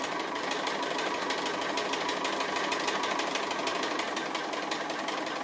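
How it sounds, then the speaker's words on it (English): Sewing machine running a quarter-inch seam on a quilt block, giving a steady, continuous mechanical whir of rapid stitching, moderately quiet and close, with nobody speaking. "just sew that 1/4 inch seam all the way along"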